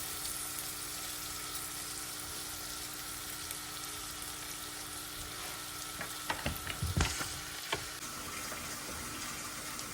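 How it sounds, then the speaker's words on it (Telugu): Lemon rice (pulihora) being stirred and mixed in a pan, with a steady low sizzle throughout and a cluster of louder scraping, clattering stirs near the end. "ఇప్పుడు ఈ పులిహోర అంతా కూడా మిక్స్ చేస్తున్నాను"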